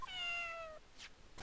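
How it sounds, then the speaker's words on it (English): A single clear cat meow, a short rising then falling cry, from a Phoenix Wright: Ace Attorney – Justice For All video game. Two soft brief noises follow it, and no one speaks. "A cat?"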